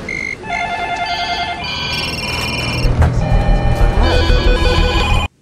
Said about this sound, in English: The bit where all the phones ring.